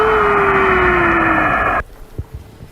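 Eerie warbling radio interference recorded by Apollo 10 astronauts in 1969, a loud whistling tone sliding slowly downward over dense static, ending abruptly and leaving quiet hiss with a few soft thumps.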